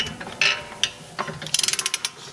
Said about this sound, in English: And we can go ahead and torque this nut.